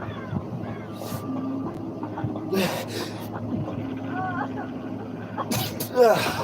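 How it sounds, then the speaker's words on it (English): Someone talks quietly with pauses, then a sharp sneeze bursts out near the end over faint background rumble. "Sorry, I sneezed."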